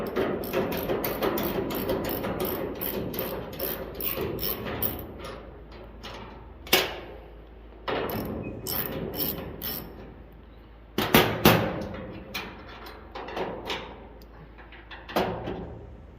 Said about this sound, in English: We'll start by removing these factory straps.